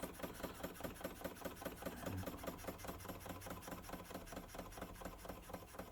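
A Weeden 34 model steam engine from about 1896, restored and run on compressed air, chuffs at low speed with a steady, quick rhythmic beat, faint and close.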